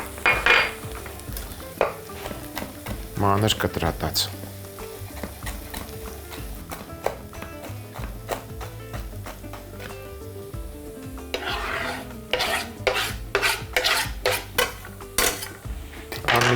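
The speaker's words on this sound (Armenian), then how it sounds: "Հենց միսը կարմրեց, ավելացնում ենք 50 գրամ ընկույզ։" A spoon stirs browned meat and walnuts in a pan for stuffed eggplant, with repeated scraping, clinks and knocks against metal over a low sizzle, close by. A voice briefly speaks.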